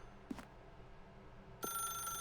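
A telephone rings in The Stanley Parable: Ultra Deluxe, beginning as a faint, distant tone and then sounding a steady electronic ring near the end over a quiet room hush.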